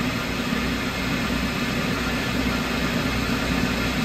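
A Spitfire single-rail transmission spins on a test rig at about 1500 RPM, giving a loud, steady mechanical drone with a constant whine, close by and unbroken, with no voices.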